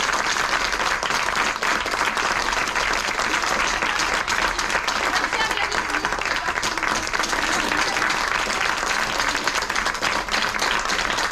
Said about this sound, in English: je pense qu'on peut les applaudir encore une fois